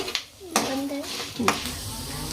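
Tamarind and cumin seeds fry in a pan for curry leaves rice, with a low, steady sizzle broken by two sharp spatula clanks against the metal.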